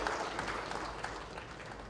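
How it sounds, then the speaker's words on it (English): Applause for a company's leadership team at a 2012 customer meet in Delhi, a steady, dense wash of clapping filling the whole stretch at moderate level with no break. "Let us give a round of applause to the leadership team"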